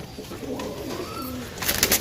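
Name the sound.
pigeons cooing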